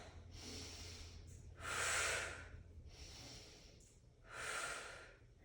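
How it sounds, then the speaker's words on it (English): A person takes slow, deep breaths during a hip and thoracic mobility stretch, with two strong, airy exhales a few seconds apart and quieter breathing between them, close and alone without speech. "Take a few deep breaths here."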